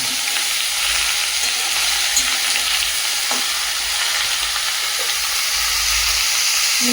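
Oil sizzles loudly and continuously in a hot kadai, a dense, steady frying hiss close by with no talk over it.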